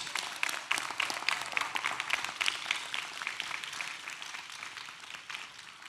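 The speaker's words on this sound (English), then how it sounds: "Y'all clap it up for her." An audience claps and cheers in a dense, sustained burst of applause that starts loud and gradually thins out over several seconds.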